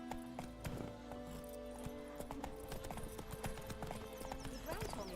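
Horse hooves clip-clop at a steady walking rhythm while riding in the video game The Witcher 3, close and clear beneath game voices and ambient sound.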